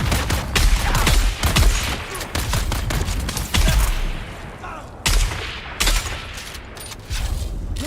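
A triple shot weapon fires in Dune Awakening, loud close bursts of clustered shots repeating in uneven volleys with brief pauses between them.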